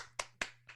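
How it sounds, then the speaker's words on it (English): Three separate hand claps, sharp and close, spaced about a quarter second apart, with the last one a little softer, over a quiet room. "An uproarious round of applause breaks out amongst the video chatterinos."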